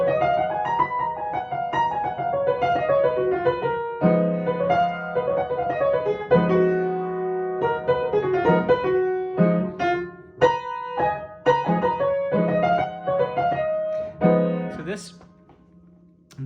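Solo piano plays a Locrian mode scale, single notes moving up and down in a steady melodic line with some sustained chords, close and clear, with no voices.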